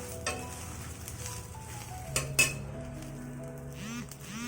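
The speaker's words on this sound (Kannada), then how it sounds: "ಕರ್ಬೇವಿನ ಸೊಪ್ಪು ಮುಟ್ತಾ ಗರಿ ಆಗಬೇಕು ಆ ಥರ ಬಾಡಿಸ್ಕೋಬೇಕು" Curry leaves dry-roast in a pan with a gentle crackling sizzle, broken by a few clinks of a spoon stirring against the metal.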